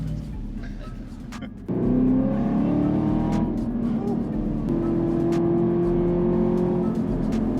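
A Camaro ZL1's powerful engine roars into hard acceleration, loud and close inside the car with the back seat down, its pitch climbing through gear changes over road noise.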